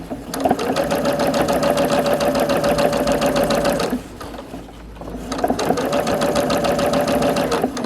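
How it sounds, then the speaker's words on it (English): A sewing machine backstitches around a round sun hat crown. It whirs in a fast, steady mechanical rhythm, pauses for about a second, then resumes at the same loud, close pace. "I'm going to backstitch."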